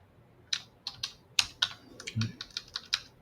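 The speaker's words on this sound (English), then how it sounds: "So I'm trying to type it back." A message being typed on a computer keyboard, with a quick irregular run of close, crisp key clicks against a quiet background.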